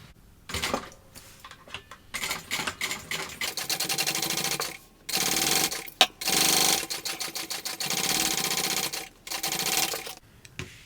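A sewing machine top stitches at an eighth of an inch along the top trim of a baby bucket bag, running in steady bursts of rapid needle clatter separated by short pauses, close and loud.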